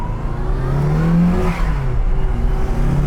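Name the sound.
turbo Mini Cooper accelerating, barking the tires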